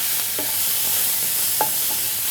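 Ginger paste frying with capsicum and chopped tomato in a pan, a steady hiss of sizzling with a few short spatula scrapes, close and fairly loud, without talk.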